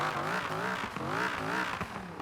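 A maxed-out Viper V10 in a Camaro iROC-Z revs hard in Forza Horizon 4, its loud, close engine note rising and falling in repeated surges with a slightly odd, buzzy edge.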